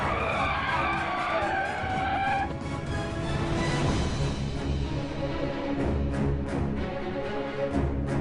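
A car skids hard with a loud, sustained tire squeal over a roaring engine, running continuously and close for several seconds before easing into rougher engine noise.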